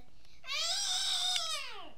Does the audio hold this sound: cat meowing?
yes